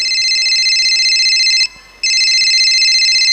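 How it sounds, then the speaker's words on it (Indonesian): A telephone rings loudly in a stage drama performed by a high school class, sounding as two long, shrill electronic bursts separated by a brief pause. "Loh, Paman Dodi, kenapa pagi-pagi gini telepon?"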